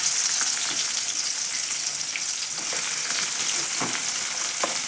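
Chopped onion frying in hot oil in a wok, a loud dense continuous sizzle with occasional stirring scrapes, close and without talk.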